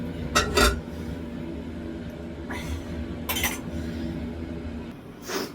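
Metal lid set onto a pot of Kerala-style dried fish curry with ground coconut, giving a few sharp clinks and clatters of metal cookware against a low kitchen background hum.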